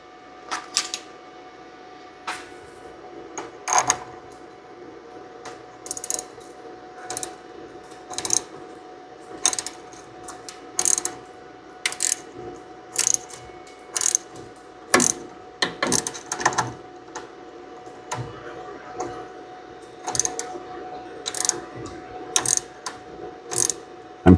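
A double flare tool flares a brake line on a 2000 Nissan Frontier, giving repeated bursts of sharp ratcheting, mechanical clicks in an uneven rhythm, close and fairly loud, with no talking.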